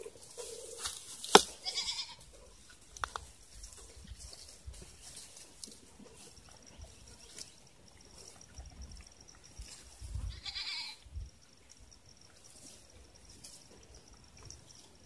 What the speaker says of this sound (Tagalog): Lima po sila lahat yung kambing na inalagaan namin.